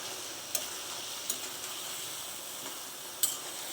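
Curry cooks in a pan with a steady, close sizzle and soft bubbling hiss, broken by a few sharp ticks of a utensil against the pan; no one speaks.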